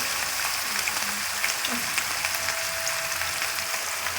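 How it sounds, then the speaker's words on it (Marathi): Grated fresh coconut sautéing in oil for a chutney, a soft, steady close sizzle with faint crackles and a few light scraping clinks. "चांगलं परतून द्यायचं मस्त खोबऱ्याला तेल सुटेपर्यंत"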